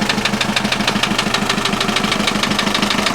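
A VW TDI MK4 diesel engine idles close by, with a steady, even rhythm of rapid knocking pulses and a constant mechanical hum that holds throughout.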